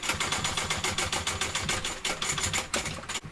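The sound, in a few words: sewing machine stitching a handbag gusset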